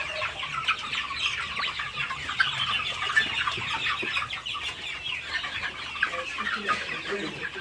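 Chickens cluck steadily in a dense, overlapping chorus at a poultry farm, with several birds close by and more behind them. No voices are heard.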